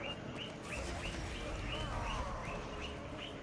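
Pet guinea pigs squeak in a repeated rhythmic series of short rising chirps, about ten in a row, faint and steady over a low background hum.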